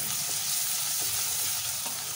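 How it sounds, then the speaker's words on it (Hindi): Onions with ginger garlic paste fry in a pan for a home-style aloo matar gajar curry, giving a steady close sizzle with faint stirring scrapes and no talk. "और थोड़ा सा इसको भूनेंगे"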